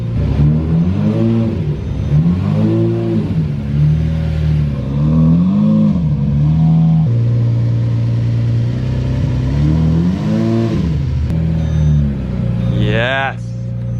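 A Lamborghini Murcielago with a V12 engine, a totaled car being driven for the first time, revs loudly and close as it is put into reverse. The engine note rises and falls in repeated swells, and a person talks over it.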